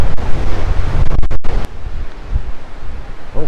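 Ocean surf washing in beside a fishing pier in South Florida, with steady wind buffeting the microphone; broad continuous roar with a brief gust dropout midway before the waves and wind carry on.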